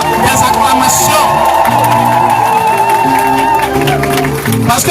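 A church congregation at an evening prayer vigil rises in loud, sustained cheering and joyful acclamation, a dense crowd roar with shouts and whoops carrying over music throughout.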